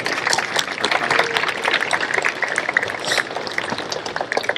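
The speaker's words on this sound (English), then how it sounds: "Graduates, let's give them a big round of applause." Sustained applause at a 2025 middle school graduation ceremony, a dense, steady wash of many hands clapping at even loudness throughout, with no talk over it.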